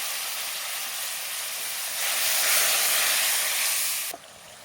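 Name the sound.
spice masala frying with a little water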